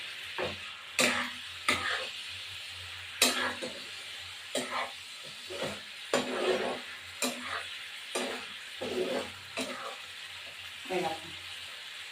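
Eggs sizzling in a pan with ginger, onion, garlic and tomato under a steady frying hiss, punctuated by repeated scraping strokes of a spatula stirring, close up.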